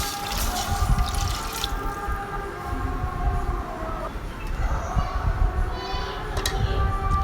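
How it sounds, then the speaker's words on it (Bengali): Water is poured into a cooking pot while making pulao, a steady loud splashing gush that runs without pause from start to finish. "এরপর এখানে আমি পরিমাণ মতো পানিটা দিয়ে দিলাম।"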